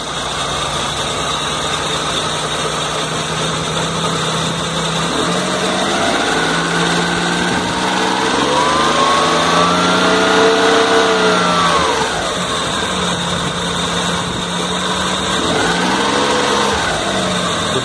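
A Maruti 800 engine idles and then revs up in smooth rising and falling swells during an alternator charging check, loud and close with a steady underlying hum.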